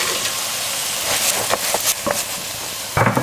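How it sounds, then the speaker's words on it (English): Minced meat keema frying dry in a pan as peas are added, a steady close sizzle with brief stirring scrapes and a louder burst near the end. "As you can see, the keema is dry and it's frying."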